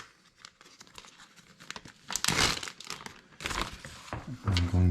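A plastic Ziploc bag handled while preparing to clean keyboard keycaps, soft crinkling building into louder rustling and crumpling bursts up close, with a brief low knock at the end.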